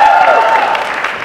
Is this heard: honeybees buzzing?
no